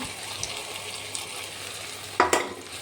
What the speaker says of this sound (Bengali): এবার পেঁয়াজ ভাজা হয়ে গেছে, মশলাটা দিয়ে দিলাম।